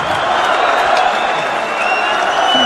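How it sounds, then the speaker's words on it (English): A packed crowd at an ALASH PRIDE ACB 69 MMA event cheers and applauds a fighter after a quick first-minute finish, a dense, steady roar of clapping and shouting with no gaps. "And listen to the crowd giving him the props he deserves."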